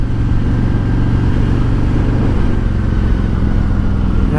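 A 2019 Harley-Davidson Road King fitted with a Rinehart DBX45 slip-on exhaust, held around 2,500–3,000 RPM in third gear, a loud, close, steady low engine rumble without pause.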